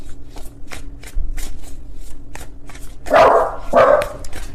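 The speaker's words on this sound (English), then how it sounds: "Please ignore my dogs in the background." Dogs bark in the background indoors, two loud close barks near the end after a run of faint tapping and rustling.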